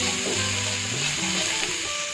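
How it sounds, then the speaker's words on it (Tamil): Vegetables for a chutney sauté in a pan, giving a loud, continuous, close sizzle with no talking, over a faint tonal hum. "ஒரு ரெண்டு நிமிஷம் வதக்கிக்கலாம்"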